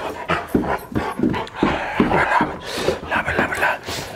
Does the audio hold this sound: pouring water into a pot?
no